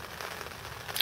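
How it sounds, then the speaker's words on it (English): Heavy rain hammering down outdoors at a fishing spot, a steady dense patter and hiss with crackly drop impacts, fairly quiet and continuous with no talking. "still raining quite heavily outside"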